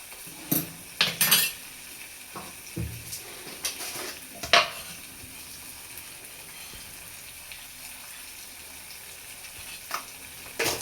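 Drumstick (shevga) masala being stirred and sautéed in hot oil in a pan, with a steady low sizzle and scattered scraping clinks of a spoon against the metal, heaviest in the first few seconds and again near the end.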